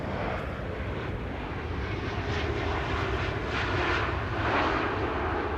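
A Saudia airliner at Amsterdam Schiphol Airport gives off a loud, continuous jet engine roar with a broad hissing wash that holds steady throughout, heard alone without talk.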